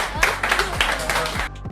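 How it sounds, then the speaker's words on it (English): Fathers gathered at a primary school function clap for themselves, a loud close burst of many hands with rhythmic low thumps beneath, ending abruptly after under two seconds. "start by inviting you all as fathers to clap yourselves for being here this afternoon"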